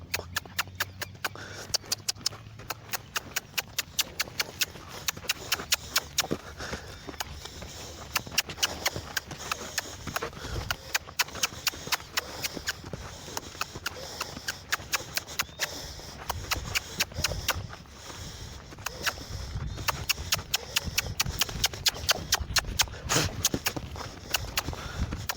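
Horse hooves stepping sideways on the ground during groundwork training, a long run of irregular clip-clop footfalls, fairly close, with scraping and shuffling sounds and a trainer talking at times.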